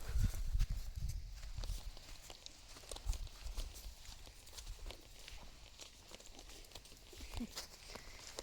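A relaxed horse walking on a lead line after a massage at a stable, its hooves giving soft, uneven clip-clop steps near and fairly quiet, with occasional thumps early on.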